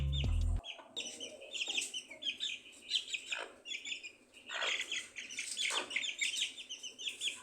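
A Brahma chicken chick peeps in quick, high, repeated chirps, close and fairly loud, alone after a brief thump at the start.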